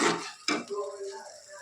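Masala spices frying for chicken kosha in a pan, with a few metal spatula scrapes and clinks against the pan, short and close, partly under a voice speaking.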